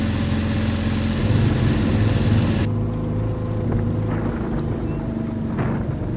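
An antique 1953 Scott-Atwater outboard motor runs with a steady, close droning hum that continues without a break, its tone thinning slightly partway through.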